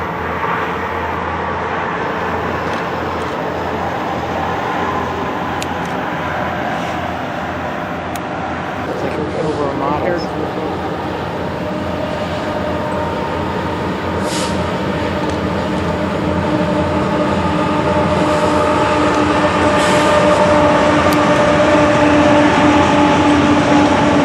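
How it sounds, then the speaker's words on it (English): An eastbound BNSF intermodal freight train on the Midway Subdivision, led by BNSF 6541, 3725, 961 and Canadian National 2333, rolls past with a steady rumbling roar and wheel noise that grows louder toward the end. "an eastbound BNSF intermodal train on the Midway Subdivision"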